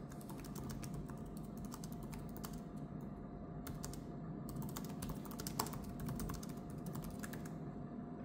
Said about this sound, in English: Let me type something for you.